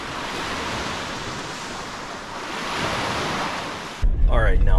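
Steady roar of ocean waves washing onto a Puerto Rico beach, loud and continuous with wind buffeting the microphone, ending abruptly in a burst of close rumbling noise.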